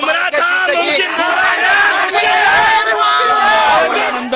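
Cricket fans in Nashik streets cheer and chant loudly after India's T20 World Cup victory, a packed crowd roaring with overlapping shouted slogans throughout, close and sustained.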